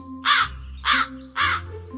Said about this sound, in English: the crow is cawing